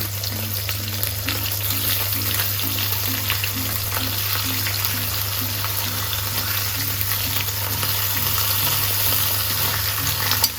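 Bacon frying in a pan of New Zealand grass-fed butter, a steady close sizzle and crackle that runs unbroken, with a low constant hum beneath it.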